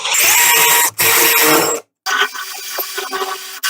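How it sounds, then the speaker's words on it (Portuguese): A power drill with a 6 mm bit bores a hole into a wall for an invisible-bracket shelf, loud and close in several short bursts separated by brief stops. "Eu fiz esse furo com uma broca de 6 milímetros para eu poder fazer o furo"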